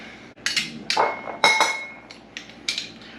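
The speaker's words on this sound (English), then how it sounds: "So I'm going to put it in my garlic press and I'm going to" A metal garlic press crushes a garlic clove for a buffalo chicken salad, giving a handful of sharp metallic clicks and clinks up close, irregularly spaced with short gaps and no talking.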